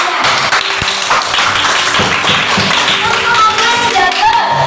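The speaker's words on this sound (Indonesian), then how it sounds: "Tepuk tangan dulu." Schoolchildren clap their hands together in a classroom during a lesson, a loud, ragged burst of many claps with a few sharper taps and faint voices mixed in.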